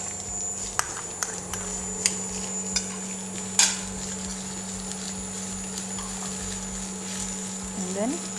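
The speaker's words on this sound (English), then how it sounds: "I stir fry the mushrooms." Mushrooms stir-fry in oil for a vegetarian yam puff filling: a soft sizzle under repeated scraping and tapping strokes from a utensil, with a louder clatter in the middle and some talk nearby.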